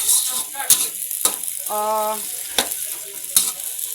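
Garlic and onion sautéing in a pan for adobong stringbeans, a soft steady sizzle broken by a few sharp clicks of a utensil against the pan and a brief tonal squeak, close and without speech.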